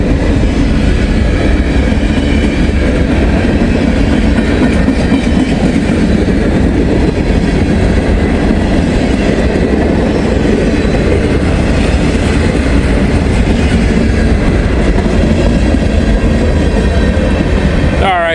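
A train rolls past close by on the line, a loud, continuous rumble with clickety-clack wheel rhythm and a brief wheel squeal near the end.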